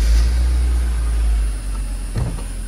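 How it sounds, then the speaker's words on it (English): A 1984 Mercedes-Benz 280SL catches and settles into a steady idle from a cold start, its low engine rumble continuous and close, with a brief rise in revs toward the end. "Car starts up right away."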